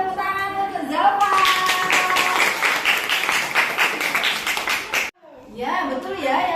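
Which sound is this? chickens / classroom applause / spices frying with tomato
classroom applause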